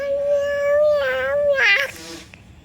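A three-year-old child imitates a cat's meow, one drawn-out, wavering high-pitched mew that rises and falls, followed by a second shorter squeal, close and fairly loud in a quiet room.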